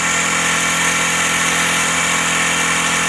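An Auto Union GG400/24 two-stroke generator fitted with a heavy-duty muffler runs at a steady, loud, buzzing idle, close by and unchanging throughout, with no talking.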